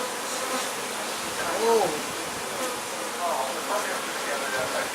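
A dense swarm of honeybees hums steadily throughout during a hive relocation, a continuous mid-pitched drone with a few louder passes near the middle, while a person talks briefly over it.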